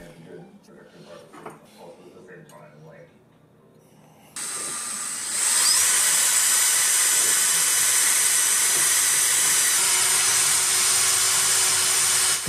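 A makeshift lathe spins up to shape a part for a Sky-Watcher AZ-GTI telescope mount, kicking in as a loud, steady high-pitched whine with hiss that holds unbroken after quieter talk and handling.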